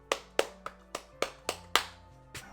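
A voice imitates clapping with eight sharp, evenly spaced slaps over about two and a half seconds, each loud and percussive with a quick decay.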